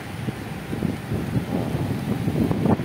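Steady, strong typhoon wind roars and buffets the microphone, with gusty rumbling swells throughout and no voices.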